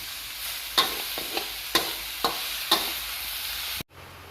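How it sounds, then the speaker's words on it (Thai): Long green eggplant and minced pork stir-fried in a pan, with steady sizzling broken by four or five sharp scraping clacks of a spatula, close and fairly loud, ending abruptly. "ผัดจนมะเขือสุกตามความพอใจของ"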